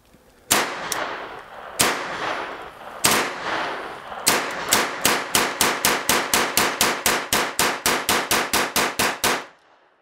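Thompson 1927 A1 submachine gun emptying a 30-round magazine, loud sharp reports: a few single shots spaced apart, then a fast, evenly paced string of bursts that stops abruptly.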